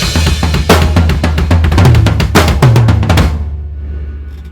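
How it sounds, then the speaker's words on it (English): A close, loud drum groove alternates floor tom and kick with snare hits, then rolls across the toms in a rapid burst before the kit rings out and fades. "the floor tom and kick alternating, snare on 4, and then a roll on the toms to go back into the groove"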